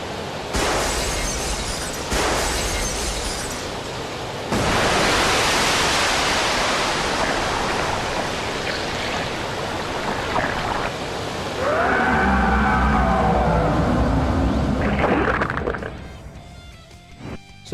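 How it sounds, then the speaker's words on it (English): Video game Sonic Adventure scene of huge tidal waves flooding a city and crashing over skyscrapers: loud roaring rushes of water with crashing surges, later joined by a tonal warbling effect before fading. "as we can see huge tidal waves coming over the city's skyscrapers"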